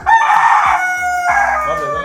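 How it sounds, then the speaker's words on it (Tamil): A Kadaknath rooster crows loudly and close by, two long strained calls one after another with no talk over them. "கடக்நாத் கோழி தானே?"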